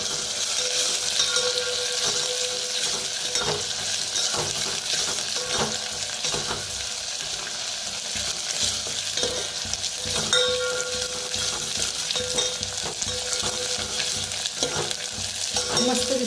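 Curry leaves tempering in hot oil, a steady bright sizzle and crackle with occasional stirring scrapes, close and continuous throughout.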